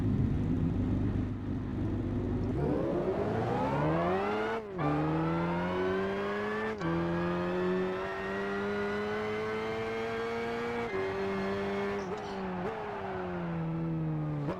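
A Holden Monaro 427c race car in Gran Turismo 5 revs hard through its gears, the engine note climbing in repeated rising sweeps broken by brief shift dips, loud and close with no talk.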